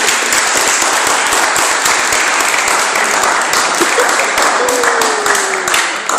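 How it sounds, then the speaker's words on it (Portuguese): A large crowd at a Catholic family gathering in Dublin applauds in a loud, sustained, dense wave of clapping lasting several seconds, with a few faint voices mixed in. "E agora gostaria também de pedir uma salva de palmas."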